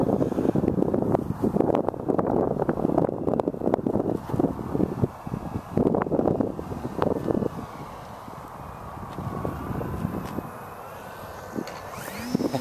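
Steady wind rumbles and buffets the microphone at an RC flying field. It is loud and gusty for the first several seconds, then eases into a quieter rush with a faint engine drone.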